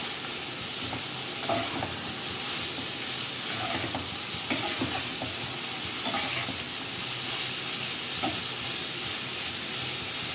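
Okra stirred in a hot pan with turmeric, garam masala and ground coriander for a yogurt bhindi dish: a steady, close sizzle runs throughout, broken by soft scraping and clacking strokes of the spoon.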